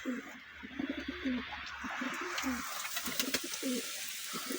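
Young month-old pigeons cooing in a loft, low soft coos repeating in short phrases alongside faint chirps, fairly close with steady background hiss.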